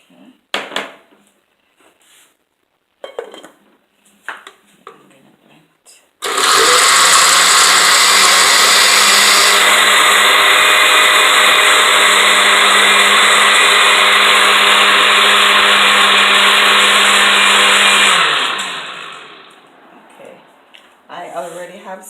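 A blender whirs loudly and steadily, blending cucumber, ginger and water, for about twelve seconds after some brief knocks and handling sounds, then winds down to quiet.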